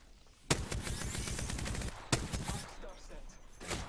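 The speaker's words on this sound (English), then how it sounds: "They're shooting at me." Gunfire in the battle royale shooter Apex Legends, two sharp bursts of automatic weapon fire about a second and a half apart, with steady game noise between and after.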